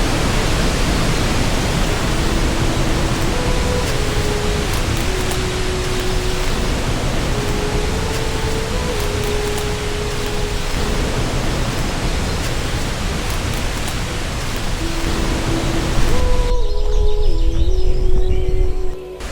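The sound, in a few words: Langga Duae waterfall, East Kalimantan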